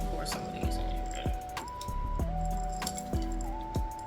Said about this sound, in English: I'm just gonna take and pour some of these in here.